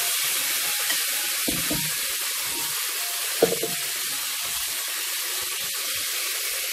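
Hot water pours steadily into a pan of browned chicken drumsticks, a constant hiss and rush with faint knocks underneath throughout.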